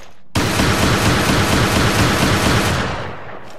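M3 shotgun in Resident Evil: Revelations firing in a fast, sustained burst of loud, close blasts that start abruptly and run together for about three seconds before tailing off.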